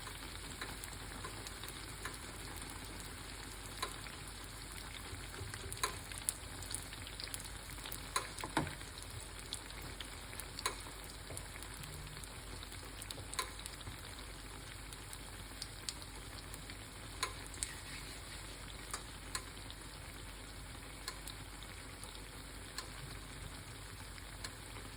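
Banana fritters frying in about three tablespoons of oil, a faint, steady sizzle with soft crackles and occasional pops throughout.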